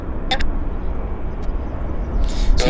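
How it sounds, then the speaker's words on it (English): Embraer 175 airliner flown by SkyWest for Delta on approach at Vancouver airport: a steady broadband jet rumble that swells slightly toward the end, with a few short bright ticks over it. "Delta Airlines, SkyWest from Salt Lake City is on approach. It's an Embraer 175."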